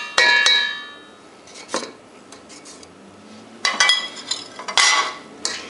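A spoon scrapes and clinks against a metal pot as butter is worked into lemon curd, close and fairly loud, in a few bursts of stirring separated by quieter moments.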